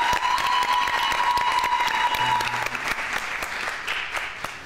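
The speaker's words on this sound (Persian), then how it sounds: "هر دو گروه ما رو تشویق کنید." Studio audience applause at a televised Persian pantomime game show, steady dense clapping filling the whole stretch, loud and close, fading slightly toward the end with no talk over it.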